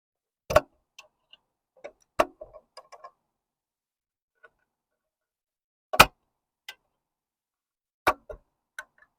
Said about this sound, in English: Every time I open the door, you can hear the opening sound.